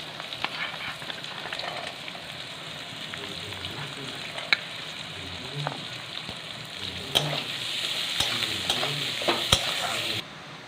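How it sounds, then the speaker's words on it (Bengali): Chopped garlic, green chili and carrot fry in hot white oil, crackling in a continuous sizzle punctuated by sharp spatula taps and scrapes, the frying growing busier and louder before cutting off near the end. "তেলটা গরম হয়েছে, এর মধ্যে দিয়ে দেবো রসুন কুচি, আর কাঁচা লঙ্কা কুচি, দিয়ে দেবো গাজরটাও দিয়ে দেবো।"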